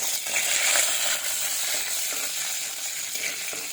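Curry leaves, ginger and garlic sizzle in hot oil for a Kerala-style seelavu fish curry, a steady loud crackling hiss with a few sharper pops, no voices.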